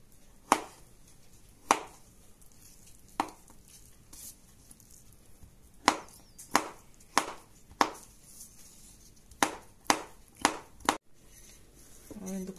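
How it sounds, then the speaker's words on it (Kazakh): Beetroot cut into small cubes with a knife, a run of about a dozen crisp chops on a board, irregularly spaced with some quick pairs, close and clear with no talk. "Енді қызылшамызды тураймыз."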